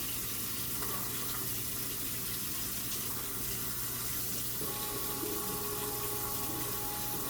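Room temperature water runs steadily from a kitchen tap, a soft continuous hiss and splash that stays even for several seconds with no talking.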